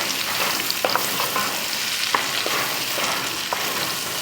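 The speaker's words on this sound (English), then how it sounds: "This way we let the onions just slowly cook down" Onions sweating slowly in a pan over low, even heat, giving a steady, soft, continuous sizzle with occasional small crackles and light pops, fairly close, with no voices.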